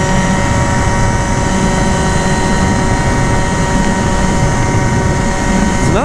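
Phantom F12 scooter engine with a J.Costa PRO variator revving high and steady, a loud continuous whining drone with a brief rise in pitch at the end.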